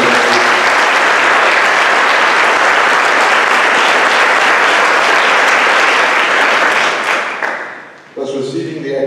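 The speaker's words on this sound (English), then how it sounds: "May we give the group a round of applause." Sustained, loud audience applause at a school prize giving for a group of achieving students, thinning out near the end as a voice begins to speak.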